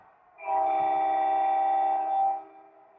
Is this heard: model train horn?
yes